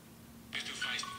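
A phone notification sound plays in a short burst of bright electronic chimes that cut in abruptly partway through, fairly loud against a low background hum.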